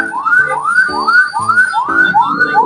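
An ambulance siren wails on a road in Bandung, its rising yelp repeating about twice a second, loud and steady with no talking.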